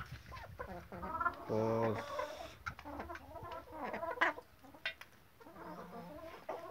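Hens clucking while laying eggs in a coop, a run of close, rhythmic clucks and one drawn-out cackling call, with a voice speaking briefly among them.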